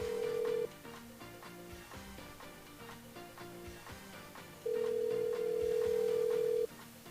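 A telephone rings on a radio station's morning call-in game show, with two long loud electronic rings at the start and end, set against steady background music.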